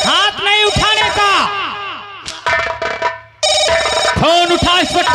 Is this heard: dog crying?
no